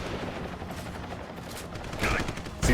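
Assault gun fire in the game Deus Ex: Human Revolution, a dense crackle of automatic shots running throughout, growing louder near the end, with faint voice underneath.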